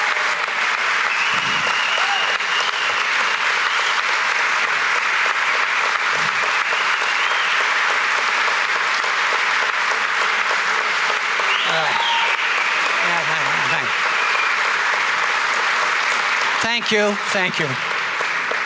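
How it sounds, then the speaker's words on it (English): Sustained applause from a Chamber of Commerce coffee gathering honoring Hank Taylor, an even wash of many hands clapping in a room, lasting throughout, with a brief spoken thanks and a few voices rising over it near the end. "I would like this chamber to give Hank Taylor a round of applause for his commitment to the thing."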